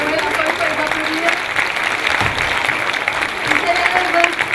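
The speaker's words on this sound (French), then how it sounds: "Vous pouvez encore une fois les applaudir." An audience applauds students' sketches at the Prix Chronos 2015 with sustained, even clapping that fills the whole stretch, dense and fairly close, with faint crowd murmur underneath.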